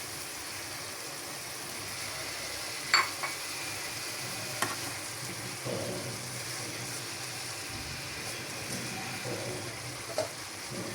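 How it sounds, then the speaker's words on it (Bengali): Carrots and cabbage fry in a pan beside potatoes, giving a continuous low sizzle with a few stirring scrapes and light utensil clinks, close and fairly quiet, with no voices. "এখন আমি গাজর আর বাঁধাকপিগুলো দিয়ে দিব।"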